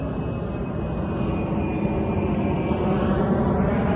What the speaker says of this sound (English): There's airplanes flying overhead, so this might be a little noisy.